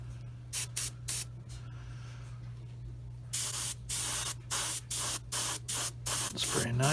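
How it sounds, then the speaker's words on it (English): A spray gun lays down clear coat thinned half and half with thinner, in a series of short, even hissing bursts, close and steady, with a longer continuous spray near the end. "spray a nice wet coat on."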